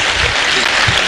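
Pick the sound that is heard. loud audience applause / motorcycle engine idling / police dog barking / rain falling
loud audience applause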